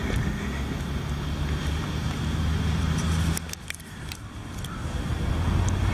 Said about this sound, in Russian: Старая машинка «Жигули» – раритет.